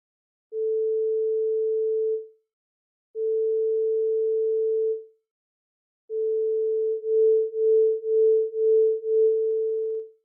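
Two pure sine tones at 440 and 442 Hz, first sounded one at a time as steady held notes, then played together so the combined tone swells and fades in about two regular beats per second, clean and alone.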